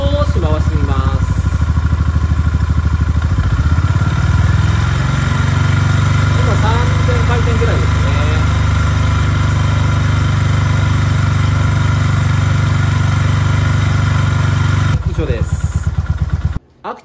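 A Honda GB350S motorcycle engine idles steadily with a loud, close, continuous thump, then is revved a few times before settling back to idle and cutting off near the end.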